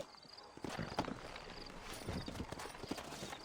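In the western video game Red Dead Redemption, horse hooves clip-clop in a fairly quick, regular gait. The hoofbeats sound moderately close, and a faint voice is heard now and then.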